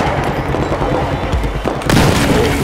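A grenade goes off in the Battlefield 4 campaign on PC amid dense ongoing battle noise, the blast landing as a loud, broad burst near the two-second mark over constant rumble and gunfire.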